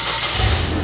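A car engine cranks and catches in a brief, loud, close burst of churning noise settling toward idle, with no talk.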